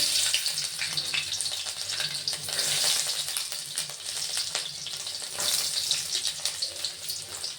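Mustard seeds, cumin and finely chopped garlic sizzle in hot oil while a tomato thokku is made, a bright steady hiss and crackle with occasional stirring scrapes, close and fairly soft.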